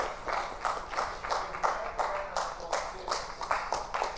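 A live audience at a speedrunning marathon event claps in distinct rhythmic beats, each clap sharp and bright, sustained over a few seconds fairly close to the microphone.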